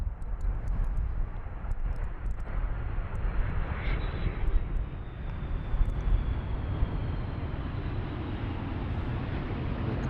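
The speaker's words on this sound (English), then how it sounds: "We are standing at Amsterdam Schiphol Airport alongside runway 27, where landings take place" Airliner coming in to land on runway 27 at Amsterdam Schiphol Airport, a loud broad engine roar and rushing air that holds steady throughout, heard from beside the runway with no talking.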